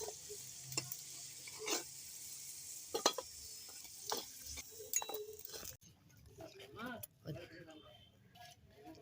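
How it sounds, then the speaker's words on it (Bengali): Jackfruit-seed puris deep-frying in hot oil, a soft crackling sizzle broken by clinks and scrapes of a utensil, with someone talking over it and quieter pauses between. "এইভাবে আমি সবগুলো পুরি ভেজে নেব।"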